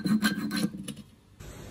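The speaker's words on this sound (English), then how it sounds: "Now I just need to take a file to this and kind of carve out just a little bit over here so it can sit on the stud all the way." A metal file carves a car seat bracket for a Corbeau FX1 Pro seat in a C5 Corvette, with several quick rasping strokes up close, then a pause and a faint hiss.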